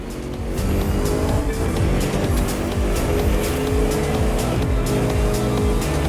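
Powerful hypercar engines roar continuously in the video game The Crew 2, racing on rough asphalt in deep woods, revving and shifting in repeated surges, loud and close with a dense, aggressive drone.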